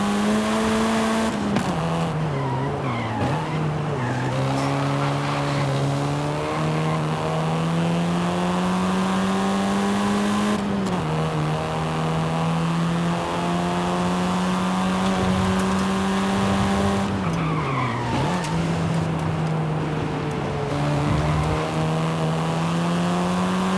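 A car races in Forza Horizon 5 in Mexico, its engine droning and revving steadily with several gear shifts and drops in pitch, loud and continuous throughout, with no talking.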